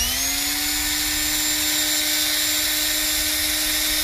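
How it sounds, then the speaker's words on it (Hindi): A 220-volt, 350-watt electric drill running unloaded, a loud steady motor whine with a constant pitched hum throughout, close by and without talk. "ये 220 वोल्ट से चलने वाला एक 350 वॉट का एक ड्रिल मशीन है, जिसे अब मैं आपको रन करके बताऊंगा"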